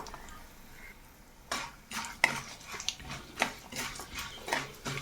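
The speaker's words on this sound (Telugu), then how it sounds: "పోపును చక్కగా వేయించుకోవాలి." Cumin, dried red chilli pieces and cashews are fried as a tempering in a pan for mango pulihora. A spoon stirs and scrapes the metal pan in repeated clinks over a faint sizzle, with no voices.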